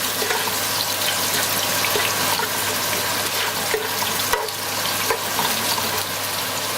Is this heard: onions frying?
yes